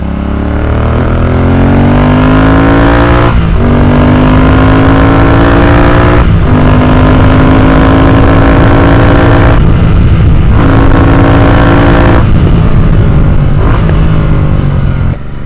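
A modified Royal Enfield Continental GT 650 being ridden, its loud, close engine droning steadily and rising in pitch through several gear changes, with short dips between shifts.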